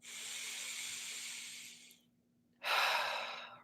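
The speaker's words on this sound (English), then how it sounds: "Breathing deeply here." Deep, slow breathing during a guided meditation: a long breathy exhale lasting about two seconds, a brief pause, then a strong, close inhale, heard alone with no talking.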